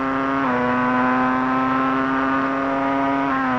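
A Formula 1 race car at the 1996 French Grand Prix holds a loud, steady high-pitched engine whine, with a slight pitch dip and recovery as it drives smoothly, continuous and close with no talk.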